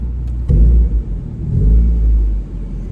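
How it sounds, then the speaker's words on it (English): A car passes close by on a street, its engine rumble swelling loud and then easing off over a few seconds, heard alone with no talking. "I'm gonna wait for this car to go by."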